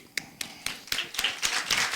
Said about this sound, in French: Alors, on peut s'applaudir.